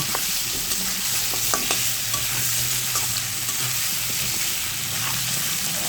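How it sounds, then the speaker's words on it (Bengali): Sankar fish and potatoes frying in a pan while being stirred, a steady oil sizzle with occasional scraping and clicking of the spatula, close and continuous. "নেড়ে চেড়ে দিলাম, একটা পাঁচ উল্টে দিলাম"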